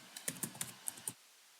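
Password keys pressed on a computer keyboard, about seven quick, faint clicks in an uneven burst, then quiet.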